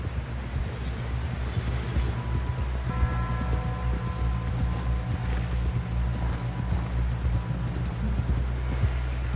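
Horse hooves galloping in Red Dead Redemption 2, a steady rapid clip-clop rhythm over a low rumbling wind, continuous and close throughout.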